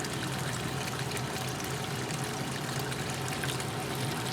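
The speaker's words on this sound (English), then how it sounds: "Still pushing out plenty of water over here." Water pours steadily out of an RV outlet, a continuous, even rush and trickle with no pauses, fairly quiet and unaccompanied by talk.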